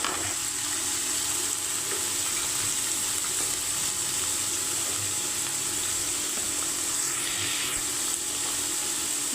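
Dried anchovies (nethili karuvadu) frying in oil in a pan, a continuous even sizzle and bubbling hiss, close and steady for several seconds with no talking.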